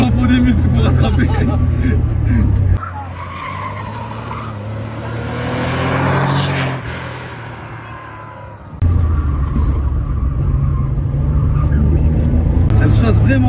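Porsche 911 with a flat-six engine mounted just behind the driver, heard from inside on a race circuit: a loud engine roar drops off, rises and falls, then surges back, with someone talking over it.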